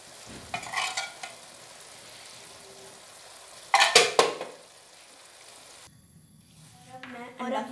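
Daal mash with garam masala is fried and stirred in a pan, with a quiet sizzle and a few bursts of louder stirring and scraping, close up, with brief speech near the end.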